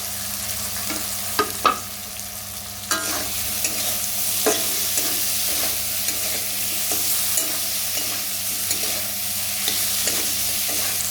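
Chopped capsicum stirred and fried in a pan with chili powder for a vegetarian paneer dish, a continuous bright sizzle with a steady low hum and occasional spoon scrapes, close and constant.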